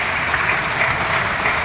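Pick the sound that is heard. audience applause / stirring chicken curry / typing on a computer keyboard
audience applause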